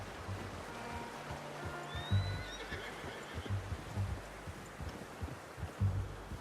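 A horse in the video game Red Dead Redemption 2 whinnies in a rising, drawn-out call over a steady ambient wash, with soft low thuds recurring in the background.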